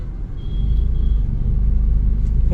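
Heavy road traffic makes a close, steady low rumble of engines with a faint whine over it, filling the short stretch without pause.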